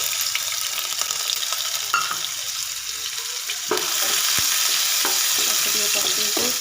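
Onions and cumin frying in oil in a pan at home: a constant crackling sizzle, with a few clinks and scraping sounds, growing louder and fuller after the first few seconds, close and without talk.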